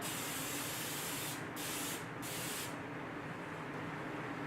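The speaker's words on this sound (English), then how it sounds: "I'm going to coat our baking dish with some cooking spray" A continuous hiss of aerosol cooking spray onto a baking dish runs for several seconds, broken by two brief pauses before a last, slightly softer burst.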